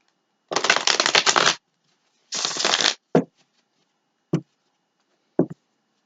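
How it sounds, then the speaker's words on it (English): Tarot cards are shuffled nearby in two long riffling bursts, followed by three short sharp taps as the deck is squared, all in a quiet room. "One more shuffle."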